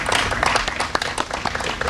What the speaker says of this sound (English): He even got applause.